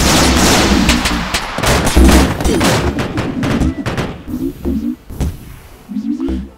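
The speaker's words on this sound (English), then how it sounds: "So let's try the mini cannon with faster cooldowns." Mini cannon firing in the video game Islands of War, loud rapid repeated booming shots in bursts with thuds and rattling impacts, continuing across several seconds.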